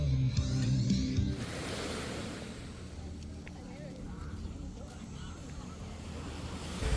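Wind and surf wash steadily at Hongkou 1920 beach in Yantai, China, a broad, soft rushing with gusts buffeting the microphone after a brief voice at the start.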